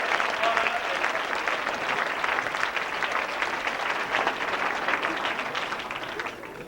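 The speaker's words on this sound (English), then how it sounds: "Give him a round of applause for being such a great volunteer." An audience at a 1991 hypnosis comedy show applauds a volunteer, a dense sustained wash of clapping that holds loud for several seconds with faint crowd noise mixed in, then begins to thin out at the end.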